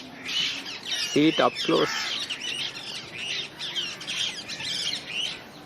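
Parrots squawk and chatter repeatedly around the 1893 Kankesanthurai lighthouse in Sri Lanka, a steady flock of harsh calls throughout, with someone briefly talking partway through.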